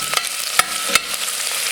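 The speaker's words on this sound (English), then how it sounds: "You wanna hear that sizzle noise" Red onions sizzle steadily in hot oil in a pan, a loud continuous crackling hiss with a few sharper pops, no voices.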